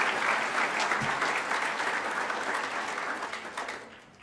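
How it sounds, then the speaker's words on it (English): A conference audience claps in steady, sustained applause that fills the hall and slowly fades out toward the end. "give a round of applause for all those persons that were mentioned and been working hard"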